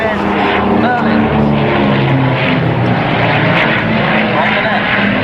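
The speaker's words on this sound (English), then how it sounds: "Down in front of me now to add to the medley, we have a Spitfire, Pratt & Whitney's, Mercury's, Daimler-Benz, Merlin's." Piston-engine warbirds including a Spitfire with Merlin, Mercury, Pratt & Whitney and Daimler-Benz engines drone loudly overhead in a continuous propeller roar, with someone talking over the engines throughout.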